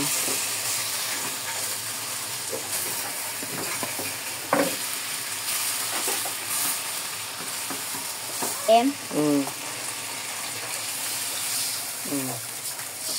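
Pork sinigang being stirred in a cooking pot, with a steady simmering hiss and scraping stir sounds running throughout while people talk intermittently nearby.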